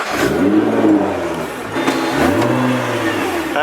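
A Nissan GT-R engine revs loudly up and down twice in close succession, with no voices.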